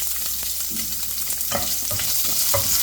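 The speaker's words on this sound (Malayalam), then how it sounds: "ഇതിലേക്ക് മുറിച്ച് ചെറിയുള്ളിയും കൂടെ ഇട്ട് കൊടുക്കാം" Chopped shallots and curry leaves fry in oil with a continuous close sizzle, punctuated by several light spoon scrapes and taps as they are stirred.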